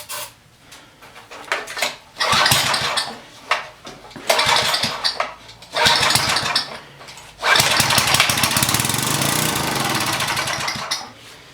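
A Coleman Powermate pressure washer engine fed starting fluid sputters to life in loud, rough bursts that die away, then catches and runs steadily near the end.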